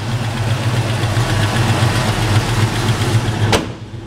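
A 1964 Pontiac GTO with a 389 Tri Power engine idles steadily with a low, even rumble, loud and close, cutting off with a sharp click near the end.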